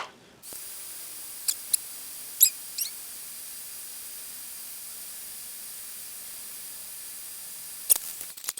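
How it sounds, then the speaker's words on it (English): A soldering fume extractor switches on and runs with a steady, even fan hiss. A few faint clicks and taps sound near the start and end. "Let's use the fume extractor."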